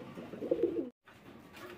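Pigeons at a pigeon market coo in a close, low, throaty burst, then break off and resume more softly.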